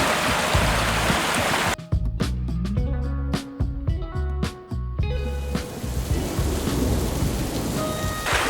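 A heavy thunderstorm with steady rain pouring down, broken by several loud thunder cracks and rolling rumbles in the middle, with no voices.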